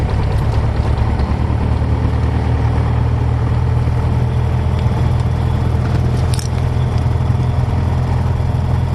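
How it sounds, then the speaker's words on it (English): A small airplane engine drones at idle throughout, a low constant rumble with an even, unchanging tone and no voices. "Now we start up the plane."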